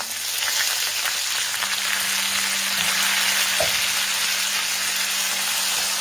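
Chillies, garlic and curry leaves fry with cumin in a pan for a Maharashtrian potato bhaji, giving a steady, dense sizzle with no pauses, close by and fairly loud, with a faint steady hum underneath.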